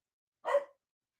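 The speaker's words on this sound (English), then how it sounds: "Please be quiet, dogs" A single short, sharp bark from one of several household dogs, fairly close and alone against silence.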